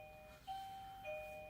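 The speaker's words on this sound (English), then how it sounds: "That's the doorbell." A doorbell chimes indoors, two tones a moment apart, each ringing out and sustaining over a quiet room.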